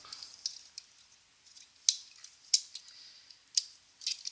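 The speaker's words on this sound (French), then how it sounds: "On a un super ciseau sur le surge, très bon ciseau." Scissors on a Leatherman Surge multitool being opened and handled, giving a few sharp metallic snips and clicks spaced irregularly, light and close with quiet gaps between.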